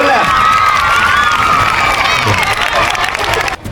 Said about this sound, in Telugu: మన అందరికి నానా ఒకసారి గట్టిగా క్లాప్స్